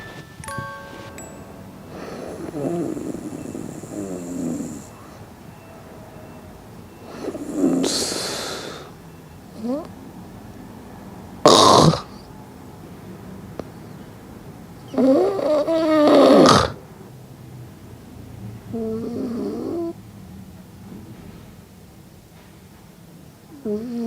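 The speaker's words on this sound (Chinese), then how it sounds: "先给大家看一下我平常睡觉时打呼的画面" A sleeping person snoring in bed, irregular loud rasping snorts spaced several seconds apart with quiet breathing and pauses between, close and uneven in strength.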